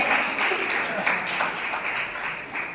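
An audience at a book launch ceremony claps in a steady, dense patter that runs through the whole moment without clear breaks.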